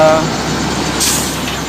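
A large intercity bus idles loudly nearby, with a brief hiss of air brakes releasing partway through under steady engine rumble.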